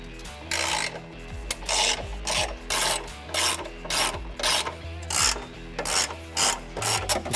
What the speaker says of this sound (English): We're now ready to remove the bumper beam by taking out 3 bolts with a 21mm socket.